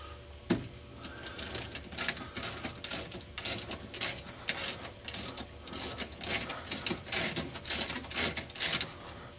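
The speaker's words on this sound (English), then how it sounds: "It's 15mm wrench." A 15mm ratcheting wrench loosens a brake caliper bolt during a brake and rotor job, giving rapid, clicking ratchet strokes in irregular bursts that sound fairly close and moderately quiet.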